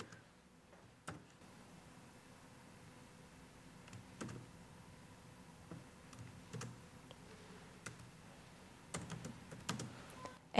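Keys clicking on a computer keyboard while Java program code is entered, in a quiet room with sparse, irregular keystrokes and small bursts of faster typing.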